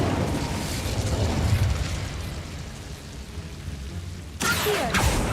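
Incendio fire spell cast in Hogwarts Legacy: a rushing, crackling burst of flame that swells and fades over several seconds, followed by a sharp new whoosh of fire near the end, loud and close with no talk.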